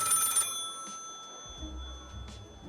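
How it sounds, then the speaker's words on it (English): Telephone ringing in the video game Lil' Guardsman, a bright electronic ring burst at the start followed by faint later chimes over quiet game ambience and low tones. "Yeah, let's just pick up the phone."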